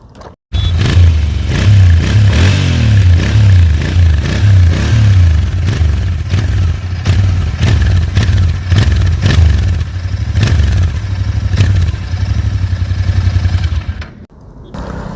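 Royal Enfield Interceptor 650 BS6 twin engine idling with a steady low throb, blipped by repeated rhythmic throttle revs that rise and fall close by, then cut off near the end.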